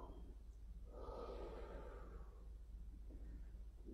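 A single slow inhale through the nose during a Pilates mat exercise, close and soft, rising and then fading over a quiet room background.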